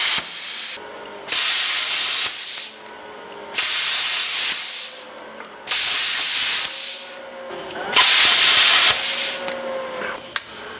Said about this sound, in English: I'm going to use the handy dandy plasma cutter